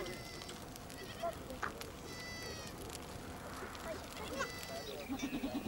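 A herd of sheep bleats in the mountains of the Tibetan plateau, several calls rising and falling at moderate distance over a busy background of mixed noise and voices.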